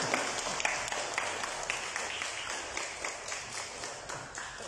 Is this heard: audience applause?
yes